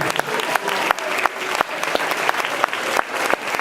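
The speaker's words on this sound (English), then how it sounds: "round of applause for Adam." Applause at a high school soccer banquet honoring a player, steady dense clapping from a crowd filling the room with sharp individual claps standing out throughout.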